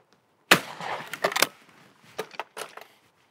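Shotgun firing at clay targets on a shooting ground, a sharp close blast followed by echoing tail, then two fainter reports later in the clip.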